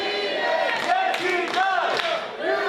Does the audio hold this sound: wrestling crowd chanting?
yes